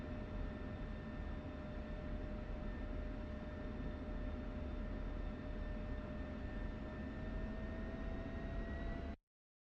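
Steady, loud F-16C jet engine roar from the DCS flight simulator as the aircraft starts up and taxis toward the runway in Syria, a broadband rumble with sustained whine tones running unbroken before cutting off abruptly.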